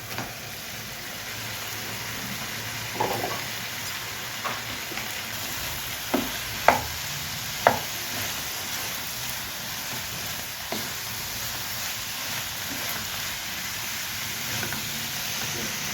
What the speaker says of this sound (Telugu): బంగాళదుంపలు కడిగి ఉడకబెట్టి పొట్టు తీసి ముక్కలుగా కట్ చేసుకున్నాను అవి వేయించుకు వేసుకుంటున్నాను